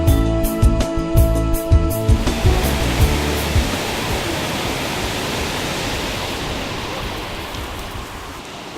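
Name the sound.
water flowing over a lake spillway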